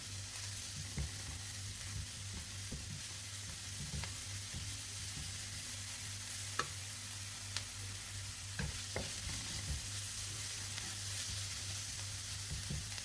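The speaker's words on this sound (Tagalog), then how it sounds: "Pa-brownie natin yung bawang" Garlic frying in a pan until brown, a steady low sizzle with faint scattered clicks of stirring, heard close and alone without any talk.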